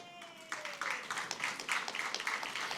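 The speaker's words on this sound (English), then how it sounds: "A huge round of applause to ma'am." Audience applause at a school felicitation ceremony, starting abruptly about half a second in and continuing as dense, steady clapping for the rest of the clip, moderately loud and not far off.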